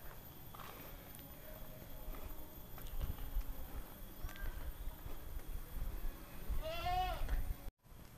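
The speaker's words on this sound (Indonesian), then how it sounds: "Nah ini ada si domba." A sheep bleats near the end with a wavering call, after faint rural outdoor ambience and a few distant earlier bleats, in a cool village at the foot of mountains.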